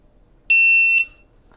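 A single bright electronic start beep from an SG Shot Timer GO, a sharp high-pitched tone lasting about half a second, loud and close in an otherwise quiet room.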